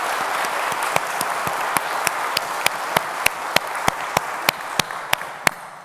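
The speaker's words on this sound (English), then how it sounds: "this is applause to thank you, to welcome you" A conference audience applauds to welcome a speaker to the stage, a broad wash of clapping overlaid by sharp, regularly spaced loud claps near the microphone, steady for several seconds.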